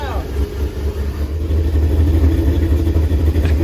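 An 800-horsepower Marauder engine idles quietly at its first fire-up, a low steady rumble with a brief rev at the start, under excited voices.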